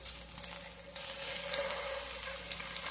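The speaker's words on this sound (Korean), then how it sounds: "여기서 살짝 모양을 유지하면서 마지막 익히면서 다시 한번 구워볼게요" Homemade hamburg steak patties frying in a pan, a continuous soft crackling sizzle that grows a little louder partway through, close and fairly quiet with no talking.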